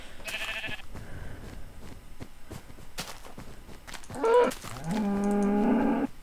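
Blocky Minecraft cows low in a survival world, a couple of drawn-out moos toward the end following bleat-like calls and footsteps earlier, fairly close with game ambience beneath.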